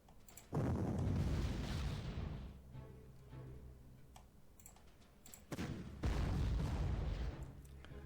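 Artillery fire in the WWII strategy game Panzer Corps, 1941 campaign: two heavy, booming blasts a few seconds apart, each with a long rumbling decay, with quieter clicks between them.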